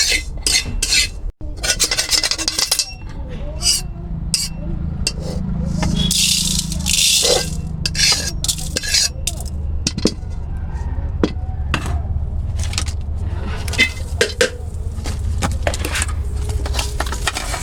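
Cumin seeds fry in a pan while a utensil stirs them, making repeated metallic scraping and rattling strokes in an irregular rhythm over a low sizzle, close by.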